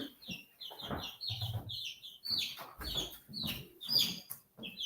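Pet chickens cluck close by in quick, uneven bursts of clucks and short squawks, with brief soft rustling between calls and no talking.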